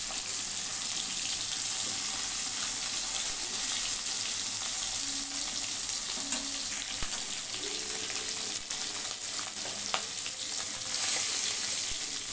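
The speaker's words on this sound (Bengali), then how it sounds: "প্রথমে আমি মাছটা ভাজতে বসিয়ে দিয়েছি" Fish shallow-frying in oil, a continuous soft hiss and crackle with occasional faint clinks from the pan.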